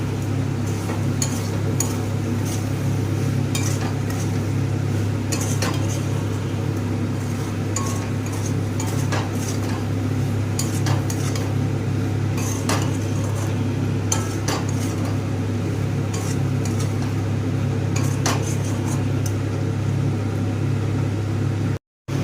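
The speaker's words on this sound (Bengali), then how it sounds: "এবার সমস্ত উপকরণ একসাথে মিক্স করব" Okra do pyaza ingredients are stirred together in a pan, with scraping and light sizzling ticks over a steady low background hum, continuous and close.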